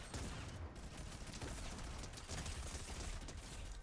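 SMG gunfire in Fortnite Chapter 4 Season 3, a sustained rattle of rapid shots that stays fairly faint and distant, with no talking over it.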